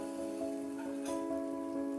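A waffle iron cooking waffles gives a steady hiss and sizzling steam with faint crackles, continuous and fairly close, no voices.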